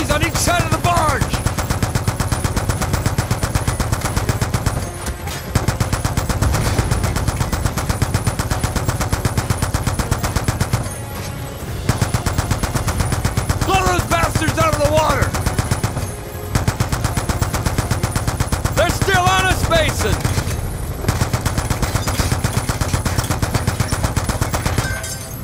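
Sustained rapid bursts from barge-mounted machine guns in Call of Duty Black Ops II, loud and nearly continuous with brief pauses, with voices shouting over the fire.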